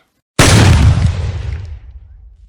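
A volley of musket fire in a dramatized tale, a single loud, sudden boom that bursts out and then rumbles away over about two seconds, heard alone with no talking.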